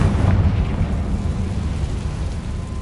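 A Confringo spell explodes in a Harry Potter video game, a loud rumbling blast with a sustained roar that fades slowly over a few seconds, with no voices.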